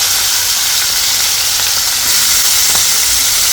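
Steady broadband sizzle of cabbage and potatoes frying in a pan, loud and close, with a few faint stirring clicks and no voices.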